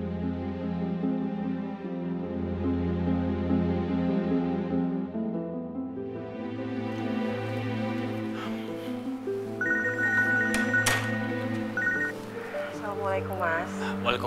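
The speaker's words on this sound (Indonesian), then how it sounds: "Aku coba telepon Mas Firman deh" An outgoing phone call rings with a repeating electronic tone for a couple of seconds partway through, over a soft background music bed and nearby speech.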